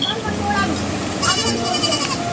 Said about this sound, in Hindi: तब तक हम बकरियों को देखते हैं।